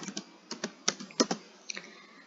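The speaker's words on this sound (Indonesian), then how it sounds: "di sini saya akan ketik tb anggota" Close-up typing on a computer keyboard while entering a table name for a database, a quick irregular run of light key clicks, clear and moderately loud with no voices.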